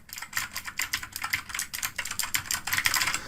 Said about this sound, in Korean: 청축은 소리가 굉장히 크죠. 눌러볼게요.